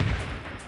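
An explosion damaging a tank in Wolfenstein: Enemy Territory: a short, loud, low booming blast at the start that fades into a rumbling tail, with no talk over it.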